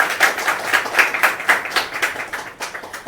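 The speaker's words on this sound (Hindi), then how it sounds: "शुभम सर के लिए, संतोष सर के लिए जोरदार तालियों से मैं चाहती हूँ स्वागत कीजिए।" Audience clapping at a stage event, a small group giving rhythmic applause with sharp, even claps, moderately close and fading slightly toward the end.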